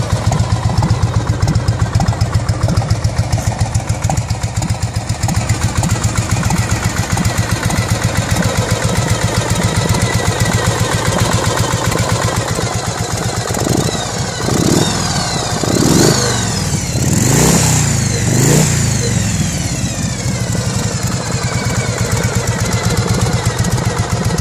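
A 1957 Harley-Davidson panhead motorcycle engine idles steadily and loudly up close, with a few brief throttle blips partway through before settling back to its rhythmic idle.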